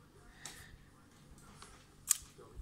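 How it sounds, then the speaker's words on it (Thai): A camera shutter fires during a shutter speed test, giving a few faint, sharp mechanical clicks spaced apart, the last one brightest, over quiet room noise. "มาลองสปีดชัตเตอร์เดี๋ยวลองที่ชัตเตอร์บี"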